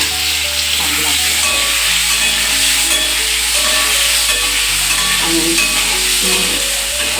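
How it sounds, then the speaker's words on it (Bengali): White cumin seeds sizzle and crackle steadily in hot oil, a loud, continuous frying hiss with faint stirring, for a Bengali tengra fish curry with flat beans and potato; a single word is spoken briefly. "আমাদের কালো জিরেটা পছন্দ করে না, তাই আমরা সাদা জিরে ফোড়ন দিলাম।"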